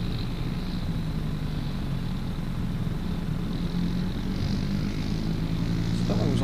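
Jetstar airliner at Gold Coast Airport, a steady engine roar and rumble heard from some distance, continuous throughout, with a voice talking over it.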